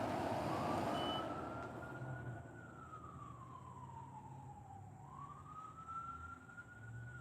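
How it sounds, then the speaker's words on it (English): Emergency vehicle sirens wailing outside, a single long rising and falling tone that carries from some distance over a steady low traffic rumble, heard alone without talk. "You hear the sirens?"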